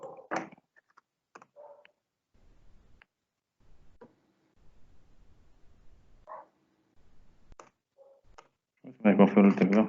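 Computer keyboard keys click sparsely and softly during a Spanish-language programming class, with quiet pauses between strokes and a burst of nearby speech at the end.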